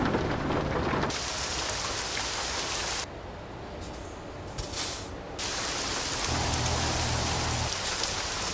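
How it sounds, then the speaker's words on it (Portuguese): Steady rain with foggy weather in Euro Truck Simulator 2, a broad continuous hiss of falling rain that briefly thins midway, with a low rumble underneath, no voices. "chuva e neblina"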